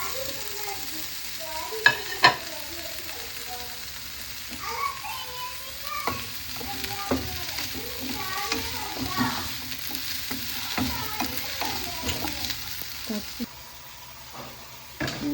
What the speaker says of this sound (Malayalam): നമ്മൾ വേറെ പാൻ എടുത്ത് അതിലേക്ക് സവാള, വെളുത്തുള്ളി, ഇഞ്ചി, കറിവേപ്പില ഇട്ട് വരക്കണം.